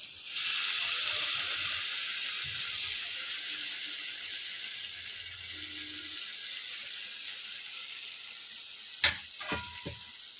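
Ground cabbage paste hits a hot pan with chili powder, giving a steady, close sizzling hiss that fades slightly over time, with a few sharp clinks near the end.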